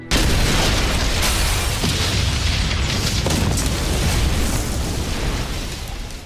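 A loud, sustained explosion from the Ace Attorney: Dual Destinies video game, a heavy blast whose rumbling, crackling roar fills several seconds and fades slowly near the end, with no voices over it.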